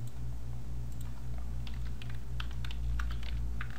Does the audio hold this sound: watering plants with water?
no